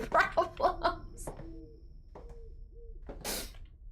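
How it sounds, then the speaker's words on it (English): An owl hoots a few times, soft and drawn out, in the horror video game Scrutinized, following a brief voice and leading into a sharp noisy burst. "I heard an owl."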